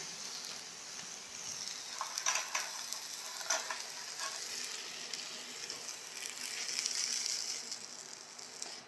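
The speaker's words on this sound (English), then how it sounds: "Chicken is just starting to steam and is bubbling." Gentle sizzling and bubbling as chicken with a splash of water heats in a pan on low, with occasional soft crackles, steady and close, no voices.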